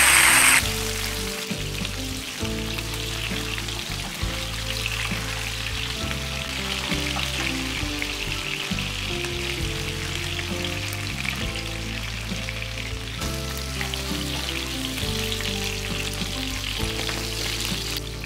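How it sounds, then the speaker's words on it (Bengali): Tangra catfish frying in hot mustard oil in a Bengali village kitchen, a steady dense sizzle and crackle running throughout under a continuous background of music, with no speech. "এই মাছগুলোকে আমি একটু মাঝারি করে ভেজে নেব।"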